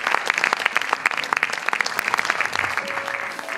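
Warm applause from an audience after a show of words and music, with many distinct hand claps in a lively, close, continuous patter over a short stretch.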